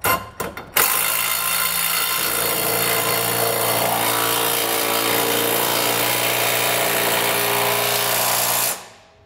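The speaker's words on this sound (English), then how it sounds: "grab a 3/4 inch socket and snug that down" A power tool fitted with a 3/4 inch socket snugs down a bolt through a crossmember bracket and side plate. The job is a B&W fifth wheel underbed kit on a 2021 Ford F-250. A few short bursts lead into a loud, steady whir lasting about eight seconds, then it stops.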